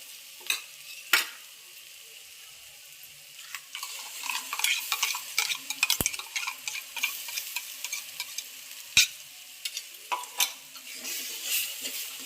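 A spoon repeatedly scrapes and taps a pan while ground coconut, onion, garam masala, coriander, ginger and garlic are mixed, giving quiet irregular stirring and a soft sizzle with a few sharp clinks, close up and without speech.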